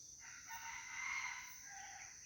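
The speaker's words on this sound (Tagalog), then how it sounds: "Napakagandang tilawak mga kanter." A rooster lets out a single drawn-out crow, faint and somewhat distant against quiet background hiss.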